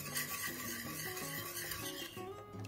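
Paprika, onion powder and garlic powder are whisked into a keto cauliflower cheese sauce, a quiet, continuous soft scraping and swishing in the pan with a faint steady background hum, no voices.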